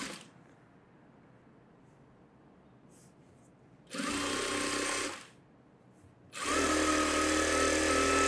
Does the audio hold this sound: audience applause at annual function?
no